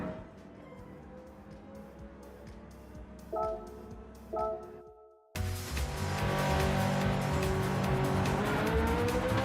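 In Gran Turismo 7, a Ferrari race car idles with a couple of sharp throttle blips, falls briefly silent, then bursts into loud, sustained acceleration with its engine note climbing steadily.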